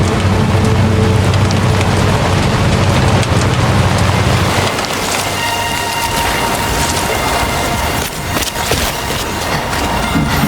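Timefall rain in the video game Death Stranding 2 falls as a dense, continuous hiss with rumbling underneath that thins out partway through, with no voices.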